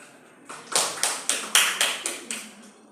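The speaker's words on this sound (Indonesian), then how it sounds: "Kita berikan aplaus lagi kepada Adik Uci" Classroom applause for a student, a short burst of about eight rhythmic claps in unison that fade out, fairly close and clear.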